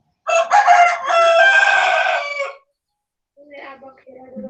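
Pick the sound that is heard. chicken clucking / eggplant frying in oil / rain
chicken clucking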